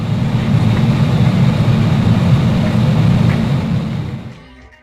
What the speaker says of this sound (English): The component that makes this possible is the jet engine.